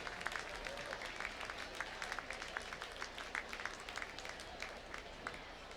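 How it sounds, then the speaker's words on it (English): Faint, distant applause from an audience for inductees at a ceremony held during a championship football event, a steady patter of scattered claps that stays quiet and unbroken. "applause is due."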